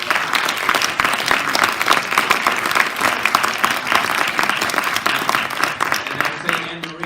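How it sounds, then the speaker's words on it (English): Audience applause at a talk on Nepal's place in Asia fills the room, dense and steady clapping throughout, with a voice speaking over it before the applause tapers at the end. "so let's give them a round of applause"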